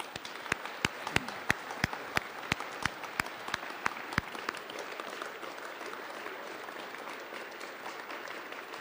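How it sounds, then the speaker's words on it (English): A crowd at a fall awards ceremony applauds, opening with loud, evenly spaced rhythmic claps in unison over a softer general patter that carries on alone once the synchronized beats stop. "Let's give them a round of applause"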